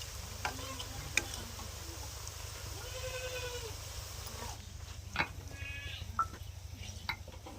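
Potato fingers sizzle in hot oil as they are stirred, a steady close crackling hiss with occasional scraping knocks of the spoon.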